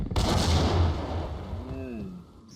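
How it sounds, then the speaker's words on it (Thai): A grenade explosion in the Max Payne video game, a sudden loud boom that rumbles and decays over about two seconds with a falling whistling tone as it fades. "เฮ้ยโหระเบิด"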